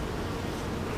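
Honeybees buzzing at an open beehive during a frame inspection, a dense steady hum close by and filling the whole second with no pauses.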